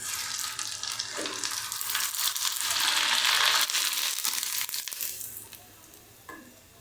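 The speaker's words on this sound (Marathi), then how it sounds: "तुम्हाला पापड दाखवते तळून" A semolina (rava) papad drops into hot oil and fries with a loud, bubbling hiss that swells, holds for several seconds and then dies away quickly near the end.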